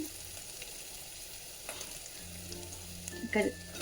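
Turmeric sizzling in hot oil for an ivy gourd stir-fry, a quiet steady crackle close by, with a brief louder stirring scrape near the end.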